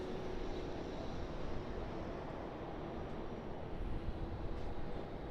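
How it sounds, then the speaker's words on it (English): An Airbus A320 airliner taxis at Sydney Airport, a low, faint, steady engine rumble and hum heard from a distance, continuous with no talk. "It's just A320 taxiing out at the moment, wearing a special livery as well."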